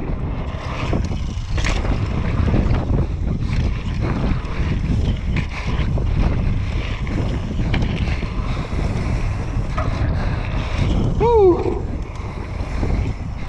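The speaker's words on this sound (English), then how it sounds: "It's pretty windy today" Steady wind roars and buffets the microphone throughout, with a low rumbling wash and a brief whistling tone near the end.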